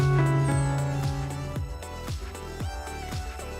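Music with a sustained tone and rhythmic beats gradually drops in loudness, its volume sinking steadily toward the end.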